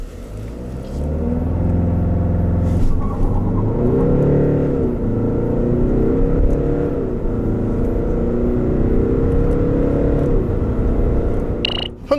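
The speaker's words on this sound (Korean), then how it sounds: "이번에는 DS7 크로스백의 가속 성능에 대해서도 한번 알아볼까요?" A Citroën DS7 Crossback accelerates hard from a standstill, its engine rumbling and rising in pitch through several gear changes, heard loud and close from inside the cabin.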